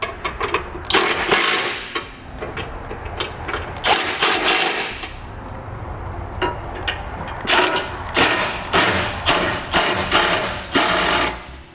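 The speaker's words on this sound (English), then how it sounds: "Now use an 11/16 socket and begin to tighten our hardware." A socket wrench tightens Curt trailer hitch receiver bolts on a 2012 Mazda 3. Loud, close bursts of ratcheting clicks come in short repeated runs separated by brief pauses.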